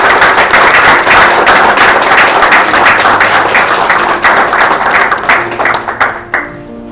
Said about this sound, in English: please can we give a round of applause to Natalie Wantege, who did that wonderful Rwandese dance